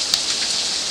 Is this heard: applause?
no